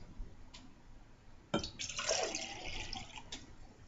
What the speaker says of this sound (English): now let's pour the water out